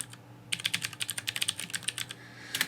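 Rapid keystrokes on a computer keyboard, entering a web address. Crisp, close clicks in a quick, fairly even run, with a short pause and a final burst near the end.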